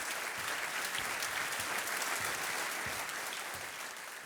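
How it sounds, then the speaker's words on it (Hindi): Studio audience applause on a TV quiz show after a contestant wins a prize, dense sustained clapping that stays loud and even throughout. "तालियां बजती रहें लता जी के लिए"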